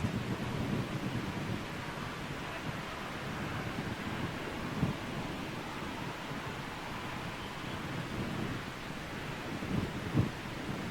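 Steady, rumbling wind buffets the microphone throughout at London Heathrow Airport, with occasional stronger gusts and no voices.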